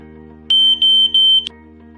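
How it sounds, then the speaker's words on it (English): A smoke alarm on a student-designed air purifier sounds during a test, three loud shrill beeps in quick succession over a steady low electrical hum. "Here is how a user can test whether the alarm is still working."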